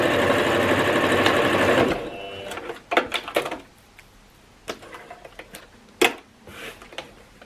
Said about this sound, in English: we're going to give a top stitch straight across